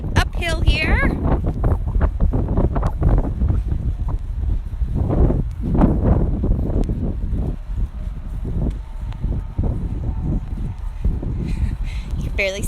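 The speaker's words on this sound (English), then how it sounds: "it's a little windy" Wind buffets a microphone outdoors during a horse-drawn trolley ride at the Kentucky Horse Park, loud rumbling gusts throughout, with people talking underneath.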